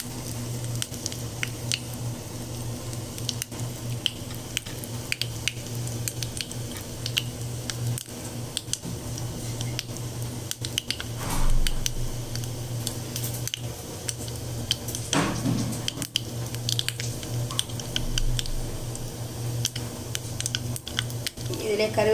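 Mustard and fennel seeds spluttering in hot oil for a moong dal sambar tempering, a steady close sizzle broken by sharp pops and crackles, with a faint clink of a utensil now and then and no talk.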